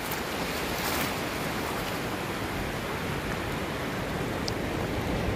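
Steady, loud roar of surf washing onto Gorai Beach in Mumbai, a continuous wash of breaking waves with wind rushing across the microphone.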